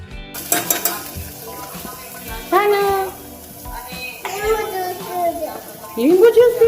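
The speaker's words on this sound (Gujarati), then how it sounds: "ચાલો મસ્ત એવું શાક લસણ નાખી હિંગ નાખી અને ચોળી બટેટાનું આજે શાક વઘારી" A cowpea and potato curry is tempered in hot oil with garlic and asafoetida, giving steady close sizzling and stirring, while voices, including a child's, talk over it.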